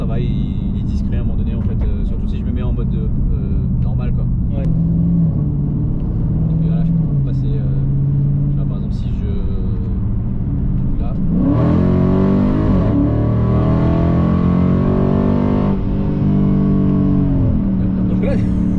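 Dodge Challenger R/T Scat Pack Widebody with a 6.4-litre HEMI V8 drives along in normal mode, its deep engine rumble steady and close, swelling louder partway through, with people talking inside the car over it.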